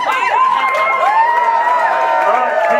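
A comedy festival audience cheers and whoops loudly at once, a dense burst of many voices shouting together with a few high yells standing out, sustained for a couple of seconds.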